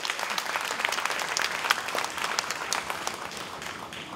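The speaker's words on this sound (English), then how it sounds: "With a warm applause, let's invite David up on stage for his opening speech." An audience gives warm, sustained applause welcoming a speaker onto the stage at a talk event. The dense, even clapping continues steadily throughout.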